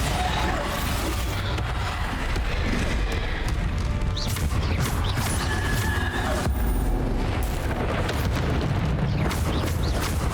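Bombarda explosion spells in the Hogwarts Legacy game, a dense continuous din of booming blasts and crashing debris, loud and sustained throughout.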